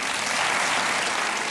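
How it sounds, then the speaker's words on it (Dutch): Dense, steady crowd applause for Miss Belgium, continuous and even throughout with no speech over it. "Nog een dagelijks applaus voor Miss België."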